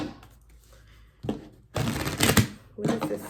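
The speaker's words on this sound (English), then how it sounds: "Let's shuffle." Tarot cards shuffled by hand in a few bursts: a short riffle, then a louder, longer crisp flurry of cards and a final shorter shuffle, close and with no talking.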